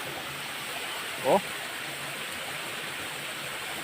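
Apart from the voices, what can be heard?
clear river stream water flowing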